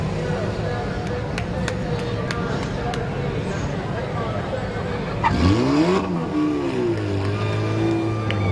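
A race car pulls to the line after a heat race at Midvale Speedway, its engine revving and rising in pitch over steady crowd and track noise, with an announcer talking throughout.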